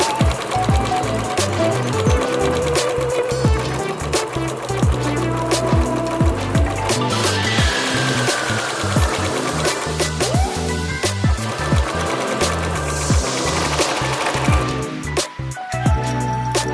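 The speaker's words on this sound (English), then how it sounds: "Sew along the rim of the section as well." A sewing machine stitching along the thick seam of a face mask made from old denim jeans, a continuous steady mechanical whir with rapid needle ticks, close and fairly loud throughout.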